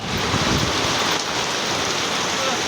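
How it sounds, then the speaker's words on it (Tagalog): Heavy rain pours down steadily in a dense, loud hiss, with no breaks and no voices. "Napakalakas ng ulan na to."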